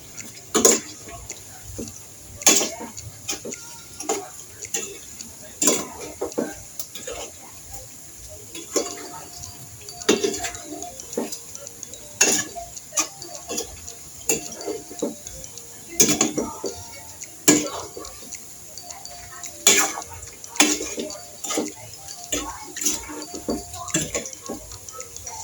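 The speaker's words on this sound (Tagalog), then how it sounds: "Haloyin lang po natin ng tuloy-tuloy hanggang sa dumikit po yung mga asukal" Saba bananas stirred with sugar in a pan, a spatula clinking and scraping the metal in an irregular rhythm of sharp taps over a quiet background, with a voice talking at times.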